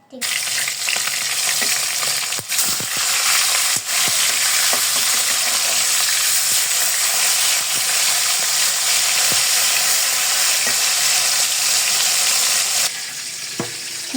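Mixed vegetables fry in a pan with a loud, steady sizzle that holds for most of the stretch, broken by occasional stirring clicks. The sizzle drops slightly near the end, and no one speaks.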